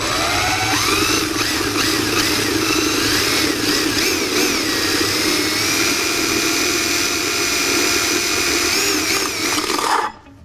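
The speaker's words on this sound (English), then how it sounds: "Now, with these hole saws, you're going to have a pilot hole that's going to get started with that" Hole saw on a power drill cutting into a diesel fuel tank, a loud, steady whine and grinding rasp with wavering pitch, lasting the whole stretch before cutting off abruptly.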